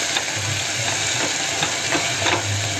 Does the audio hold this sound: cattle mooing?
no